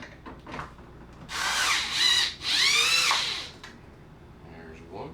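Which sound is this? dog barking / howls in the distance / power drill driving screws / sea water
power drill driving screws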